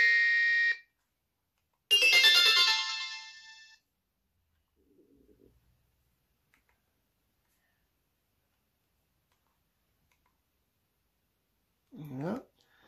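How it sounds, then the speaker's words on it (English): Short electronic ringtone snippets play from an S Mobile S-G8800 Chinese mobile phone, two bright tonal bursts near the start, then long quiet with faint handling sounds and a brief voice at the end. "So not many ringtones on there"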